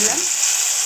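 Water is poured into a pan of frying egg soybean curry, giving a brief, bright, steady sizzle without any voices.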